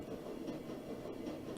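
A train rumbling steadily along rails in the video game Shadowrun Dragonfall, a continuous low clattering roar with no breaks, close and moderately loud.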